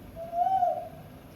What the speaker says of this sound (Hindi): ई तऽ कोयली बाजि रहल अछि